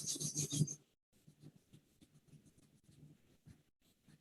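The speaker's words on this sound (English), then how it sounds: "Rub the palm." Palms of the hands rubbing together briskly, a close, dry rasping swish that is loud at first, then continues as fainter, intermittent rubbing strokes in a quiet room.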